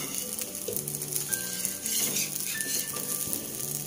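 Dosa batter cooking on a hot pan with sesame oil, giving a steady, close sizzle and crackle throughout, with faint clinks of a utensil.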